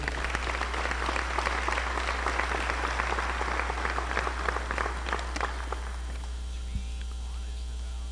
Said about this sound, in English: Round of applause for these juniors, please.